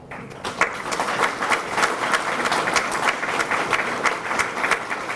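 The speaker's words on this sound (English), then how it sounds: "give yourselves a hand clap." Applause from a seated audience at an annual memorial awards banquet, a steady wash of many hands clapping at moderate loudness for several seconds, with scattered sharper claps standing out.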